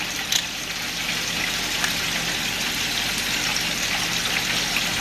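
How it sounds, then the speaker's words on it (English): Water pours into a bowl of waffle mix, a steady close trickling gush that runs without a break for the whole stretch. "I'm gonna go ahead and add water"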